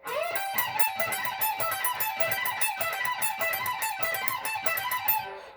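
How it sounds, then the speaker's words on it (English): Electric guitar plays a fast repetitive lick from the first solo of a song, a rapid string of evenly picked notes with no talking over it. "Then we have another repetitive lick which sounds like this."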